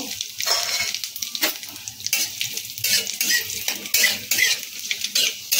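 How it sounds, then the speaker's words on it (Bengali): Bay leaf, dried chilli and cumin tempering sizzle and crackle steadily in hot oil in a kadai, with a utensil stirring and scraping against the pan in bursts, close and fairly loud with no talk. "তেল গরম হয়ে গেছে, ফোড়নটা দিয়ে দিচ্ছি। ফোড়নটাকে একটু ভালো করে ভেজে নেব।"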